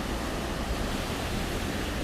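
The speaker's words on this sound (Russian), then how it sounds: "вот он, водопад Додотский" Steady broadband roar of the waterfall on the Dodot river in Tuva, continuous and even throughout, with no voices.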